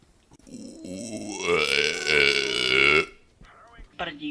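A person lets out one long, loud burp that lasts about two and a half seconds, close to the microphone. Some brief voice sounds follow.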